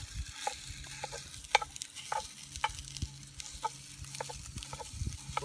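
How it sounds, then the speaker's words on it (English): Jimmy Dean sausage is scrambled and browned in a Dutch oven, a faint low sizzle broken by repeated sharp scrapes and taps of a utensil against the pot. "We'll just scramble this up."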